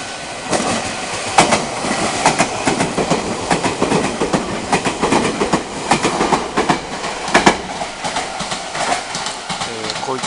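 A Meitetsu train rolls past nearby near Inuyama Station, wheels clattering rhythmically over rail joints with a steady rumbling roar throughout.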